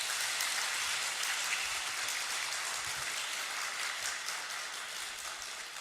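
An audience at an evening church concert applauds a soprano, a steady, distant-sounding wash of clapping that stays faint and even, tapering slightly at the end.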